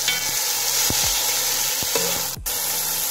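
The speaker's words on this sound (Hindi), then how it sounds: "चिकन को लहसुन की पेस्ट में पकने दें।" Julienne-cut chicken frying in garlic paste: a steady, close sizzle with several sharp scraping stirs of a utensil in the pan.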